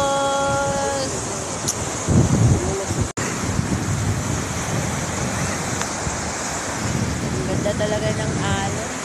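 Ocean surf washing in a steady, broad roar with a gusty wind rumble over the microphone, rising and falling slightly; a brief sharp knock cuts through midway.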